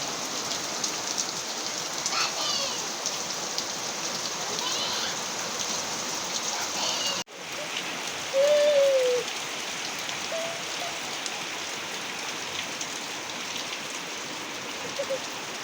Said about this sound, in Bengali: আর বৃষ্টি দেখুন বন্ধুরা। বললাম বৃষ্টি আসবে, যা মেঘ করেছিল,